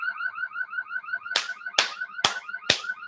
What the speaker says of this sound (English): That's a car alarm, girl.